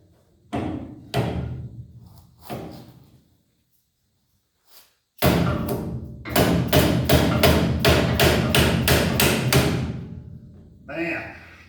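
Metal hammer blows on Ford Model A roadster suspension parts, starting as a few spaced strikes and then becoming a fast, loud run of about a dozen heavy impacts, with brief voice sounds between bursts.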